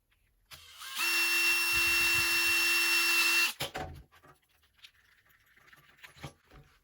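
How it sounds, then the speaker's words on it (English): A power drill whines steadily for about two and a half seconds, close and loud, drilling a carbon fibre switch panel, then stops, followed by faint clicks and handling noises. "and then we drill the other one"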